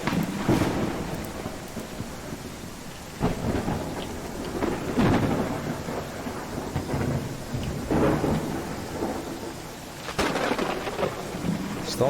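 A thunderstorm in the Viking settlement game Land of the Vikings: constant heavy rain beneath repeated rolling thunder claps that swell and fade several times, loud and close, with no talk.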